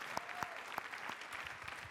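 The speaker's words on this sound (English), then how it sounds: "Give her a round of applause." A small audience clapping briefly at an evening talk, a handful of separate sharp claps spaced out over a couple of seconds, fairly sparse and thin rather than a full roar.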